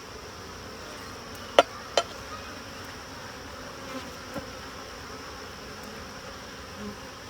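Honeybees buzzing around an open backyard hive during an evening inspection, a steady faint hum throughout, broken by two sharp clicks early on and a few softer taps later.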